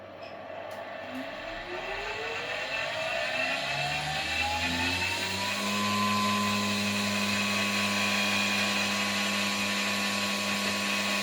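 A BLDC motor under sensorless control on a dynamometer bench winds up with a rising, layered electric whine, then holds a steady, loud tonal hum at 6,000 RPM with no talk over it.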